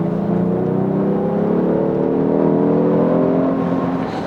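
Genesis G70 with a V6 twin-turbo engine pulls under deep throttle, a steady droning growl rising gradually in pitch and volume, heard from inside the cabin with no talk.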